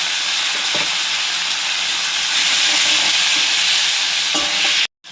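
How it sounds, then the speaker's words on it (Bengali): Onion hits hot oil, where garlic has already been frying, and sizzles in a loud, dense, continuous hiss close by, with a few stirring knocks, before cutting off abruptly at the end. "রসুনটা ভাজা হয়ে গেছে, এর মধ্যে পেঁয়াজটা দিয়ে দিলাম।"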